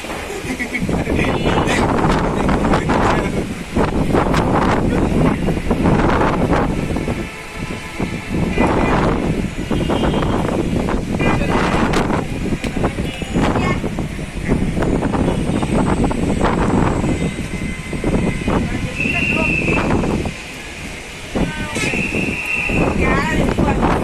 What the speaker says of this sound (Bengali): প্রচন্ড বাতাসে প্রবাহিত হইতেছে